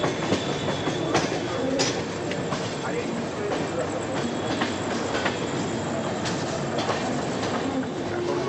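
Passenger train rolling into Varanasi, heard from on board: a continuous rumble with rhythmic clickety-clack of wheels over rail joints and occasional sharp metallic clanks, loud and close throughout.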